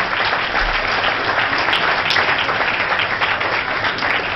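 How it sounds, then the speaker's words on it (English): Audience applause for labor unions at a memorial breakfast, a steady dense wash of many hands clapping that fills the room continuously from start to finish. "so give the unions a round of applause"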